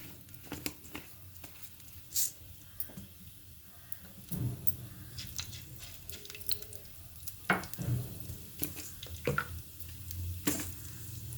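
Cumin, mustard seeds and dried red chillies fry in a couple of spoons of oil over a low flame, giving faint, scattered pops and soft crackles against a quiet background.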